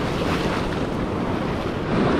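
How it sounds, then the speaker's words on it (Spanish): Calm sea surf at low tide on El Cuco beach, El Salvador: a continuous, fairly loud wash of waves blended with gusty wind buffeting the microphone, and no voices. "la marea es baja, el mar tranquilo"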